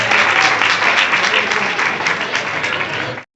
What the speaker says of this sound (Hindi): देखिए तालियों का साथ जरूर चाहिए